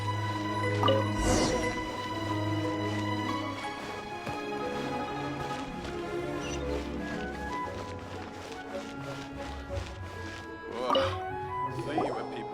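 Fetching water in the video game Genshin Impact: soft dripping and splashing liquid sounds with squishy wet touches under a layered game music background, with a couple of brighter splashes near the start and end.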